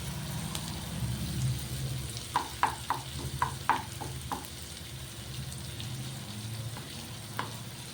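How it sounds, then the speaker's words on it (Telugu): Crushed garlic and chopped onions fry in hot oil with a steady close sizzle, and a quick run of sharp spoon-scraping clicks from stirring comes through in the middle. "ఇవి ఆయిల్లో మగ్గనిద్దాం"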